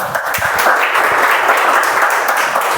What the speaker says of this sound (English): Let's give a huge round of applause again.